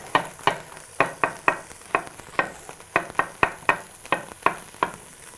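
Lardons and coarsely chopped onion sizzle in a pot, with a steady frying hiss broken by about sixteen sharp stirring knocks against the pot, fairly close and evenly spaced.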